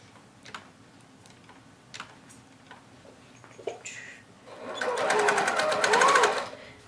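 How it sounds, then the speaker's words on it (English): A sewing machine stitches a tote bag seam joining the bottom to the side, a fast buzzing run of a couple of seconds after scattered clicks and handling taps. "we're going to stitch the bottom to the side"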